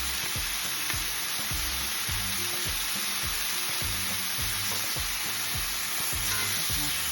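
Chicken pieces fry steadily in a hot pan for chicken paprika, a constant bright sizzle with low rhythmic crackling beneath it, close and even, with no talking.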